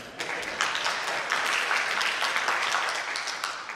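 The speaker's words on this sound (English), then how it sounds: "Hey everybody, round of applause," Applause at a school safety community night as Bruce Peterson of the fire department comes up, steady close clapping from a modest crowd throughout.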